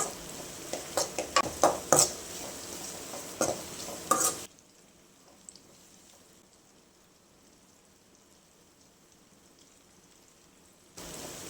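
Ground masala paste for a Tamil crab curry sizzles and crackles in a hot pan while a spoon scrapes and stirs with sharp clicks, then the sizzle settles to a soft, steady hiss before the clatter returns briefly at the end.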